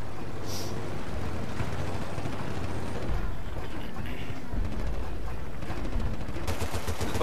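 Dense gunfire fills a Battlefield Bad Company 2 match, with continuous rattling shots and blasts over a busy mix, heard loud throughout.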